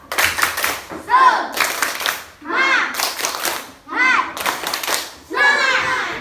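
Elementary school children in class perform a rhythmic cheer clap, quick bursts of hand claps alternating with group chanting in a repeating pattern, loud and close.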